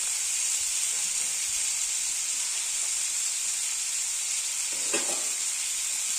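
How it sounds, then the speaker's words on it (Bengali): Steady sizzle of potatoes, pointed gourd and peas sautéing in a hot pan for a vegetarian curry, a continuous close hiss with a brief stir scraping through near the end. "ভালো করে আবার কষিয়ে নেব।"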